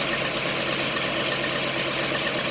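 A 1994 Fleetwood Southwind motorhome engine idles steadily after an idle speed control actuator replacement, a close, continuous low mechanical drone with an even, unbroken hum and no voices.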